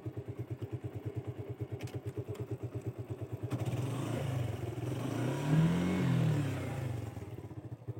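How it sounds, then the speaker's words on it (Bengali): A Suzuki Gixxer motorcycle with its stock exhaust runs in second gear, its single-cylinder engine thumping in a steady rhythm close by before rising into a louder, smoother drone. "দেখতে পাচ্ছেন এখানে এখন বর্তমানে দুই গিয়ার করতেছে। গিয়ার এরকম সাউন্ড বের হয়।"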